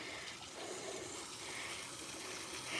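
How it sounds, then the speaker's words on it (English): Steady trickling and splashing of water from homemade backyard pond waterfalls built by hand, a continuous close wash of flowing water with no pauses and no voices. "my dad built these waterfalls, engineered this pond over here"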